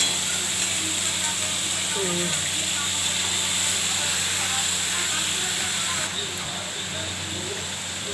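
Fish oil curry frying in a pan gives a continuous, close hissing sizzle, steady and fairly loud, that eases slightly toward the end.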